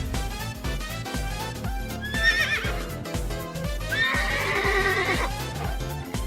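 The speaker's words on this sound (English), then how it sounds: "Okay, the neighing works." Horses neigh in a video game, two shrill whinnies rising over a looping, thumping game music track with clip-clop-like beats, the second call longer and fuller than the first.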